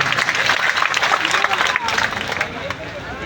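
A large crowd at a BJP political rally in Buhana applauds loudly and steadily, a dense, continuous wash of clapping with crowd murmur that swells and then eases slightly toward the end.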